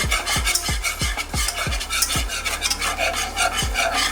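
A spoon stirs chili powder into a sauce mixture in a bowl, with a steady run of regular scraping strokes that rasp against the sides, fairly close and loud, with no talking.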